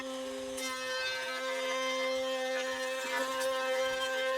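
A power saw whines steadily with a strong tonal hum as it cuts trim for a Haul Master trailer bed, the pitch holding fairly constant with small bumps as the blade bites.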